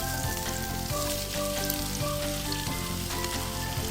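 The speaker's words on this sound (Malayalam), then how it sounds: "സവോള അങ്ങ് ഇട്ട് കൊടുക്കാം." Sliced onions frying in a pan for a pressure-cooker egg biryani, a steady close sizzle and crackle of oil running unbroken throughout, with soft stirring scrapes and no voices.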